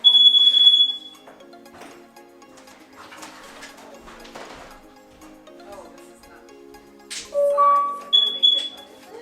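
A Google Nest Protect smoke and carbon monoxide alarm runs its self-test, giving sharp high electronic tones at the start and again near the end, with a quieter stretch between that carries an electronic announcement voice.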